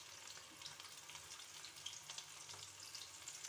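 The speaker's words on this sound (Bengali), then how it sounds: "ভালো করে লাল করে ভেজে নিতে হবে।" Soybean chunks frying in a pan until browned, a steady, quiet sizzle of oil that runs unbroken throughout, with no voices.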